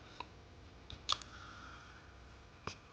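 A few sharp, isolated mouse clicks sound close up against a quiet room, one near the start, a quick cluster around the middle, and a last one near the end.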